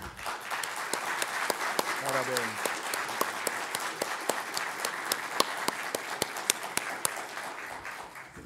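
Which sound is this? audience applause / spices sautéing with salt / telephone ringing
audience applause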